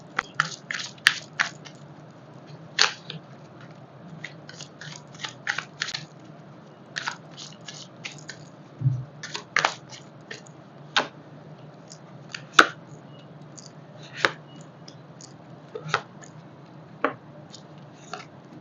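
A deck of tarot cards is cut and shuffled by hand, making crisp, scattered card snaps and soft slaps in irregular clusters, close and fairly quiet, with no talk.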